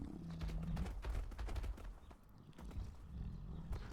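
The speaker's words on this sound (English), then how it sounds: "The horse was running from this direction." A horse running in the Atlas survival game, a quick uneven patter of hoofbeats at moderate distance, soft and continuous over low ambient rumble.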